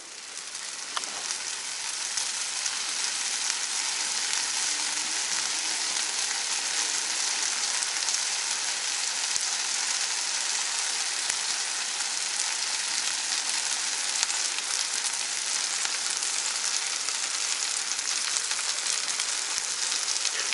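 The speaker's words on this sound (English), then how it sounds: "You want to let it fry up first." An egg and cheese sandwich fries in oil in a pan, giving a steady, even sizzle and hiss that continues for the whole stretch without talk.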